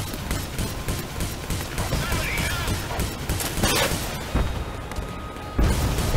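Spaceship blowing up during a Star Conflict PvP space battle: dense booming blasts and crashes over a steady rumble of in-game noise, with a sharp louder burst near the end.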